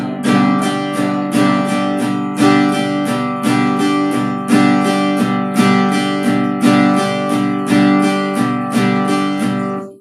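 Guitar strummed in a steady down-up-down pattern on each beat, full bright chords ringing continuously with crisp regular attacks, close and alone.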